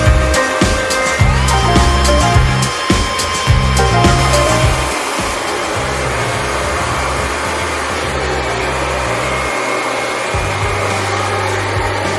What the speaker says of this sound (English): I just took a quick second to blow dry my hair